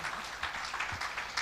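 Church congregation applauding during a worship service, a steady wash of many hands clapping with no talk over it.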